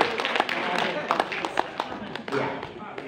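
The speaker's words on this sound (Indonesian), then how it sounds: "Tepuk tangan dulu untuk dia." Audience applause at a prosecutors' office podcast event, a scattered crowd clapping in uneven bursts at moderate volume, with a few louder slaps standing out and voices murmuring faintly underneath.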